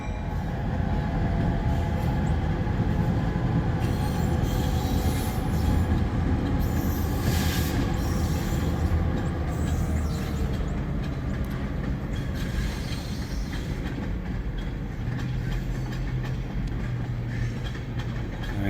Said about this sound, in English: the only thing breaking the silence around here is that train